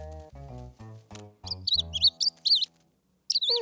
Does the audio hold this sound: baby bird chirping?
yes